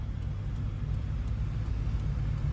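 A car driving slowly through city traffic during a beginner driving lesson, its steady low engine and road rumble running continuously and fairly close, with no talking.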